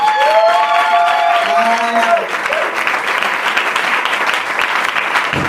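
A church congregation applauds loudly and steadily; a sung or held voice tone rides over the first couple of seconds before the clapping carries on alone.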